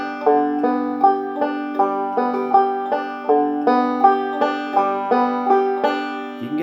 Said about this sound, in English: So a great roll is the alternating roll.